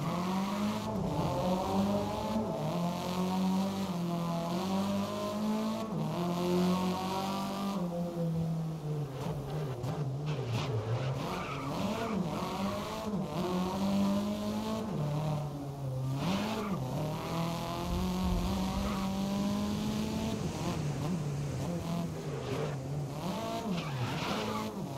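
A racing-game car drifts and skids, its engine droning and wavering in pitch while tires squeal in long sweeps, loud and steady across the whole stretch with no talk.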